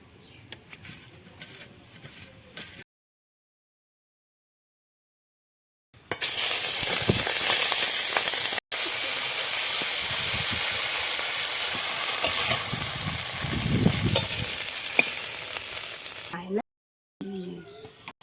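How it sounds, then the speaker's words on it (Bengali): Prawns frying in oil with salt and turmeric give a loud, steady, close sizzle for about ten seconds, broken by one brief cut, with quieter murmuring before it. "চিংড়ি মাছটা এখন ভেজে নিব লবণ দিয়ে দিচ্ছি হলুদ গুঁড়ো"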